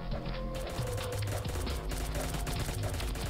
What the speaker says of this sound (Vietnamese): nghe tiếng bắn nhau ở ngoài này